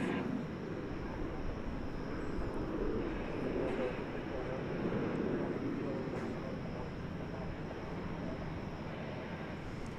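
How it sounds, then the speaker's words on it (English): A Boeing 737-800 airliner at DFW airport produces a steady low engine rumble at moderate distance, swelling slightly midway, with faint talk in the background. "This is the flight to Denver. It's a 737-800."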